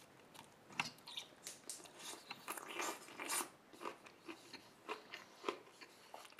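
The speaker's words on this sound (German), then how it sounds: "Einfach beim Abbeißen." Someone biting into and chewing a breakfast burger with ham, egg, cheese, bacon or chicken and pickled peppers: a string of close, soft crunches and wet chewing sounds at an irregular pace, with no talk.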